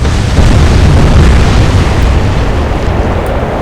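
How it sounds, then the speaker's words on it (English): A warship's magazine detonates in a naval combat game, a loud deep rumbling blast that fills the moment and slowly trails off, with no voices. "Magazine detonation sinks the ship."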